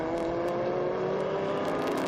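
Historic Lotus Elan race cars running nose to tail in a classic circuit race, engines droning loud and steady with a rising pitch as they pass close by.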